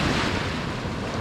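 Sea waves washing on the shore at an artisanal cast-net fishing spot, a steady broadband surf roar with wind buffeting the microphone, loud and continuous with no talk.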